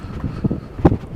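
Gusty wind buffeting the microphone in low rumbling bursts, short and blustery, with no voices, on a cold day on the Blue Ridge Parkway.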